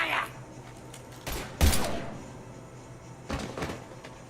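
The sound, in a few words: gunfire in Mass Effect video game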